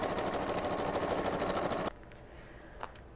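A sewing machine runs a steady, fast zigzag stitch through fabric for an envelope, loud and close for nearly two seconds before stopping abruptly, leaving a quiet room with a faint click.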